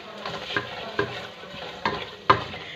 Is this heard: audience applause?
no